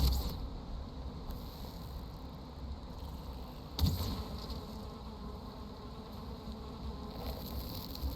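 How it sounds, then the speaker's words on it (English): A swarm of bees drones continuously in the game Valheim, a close, steady buzzing that never lets up, with a brief louder swell near the middle. "Now I'm taking damage from the bees."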